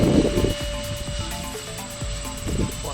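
A small FT Viggen foam RC plane buzzes with a steady high-pitched electric motor whine, heard at a moderate distance over outdoor wind and handling noise.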